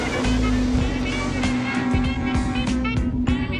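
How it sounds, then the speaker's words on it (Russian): Submarine engines starting up in the video game Subnautica: a loud, steady mechanical drone with a sustained low hum and a rushing, water-like wash that holds for the whole stretch. "Запускаем двигатели."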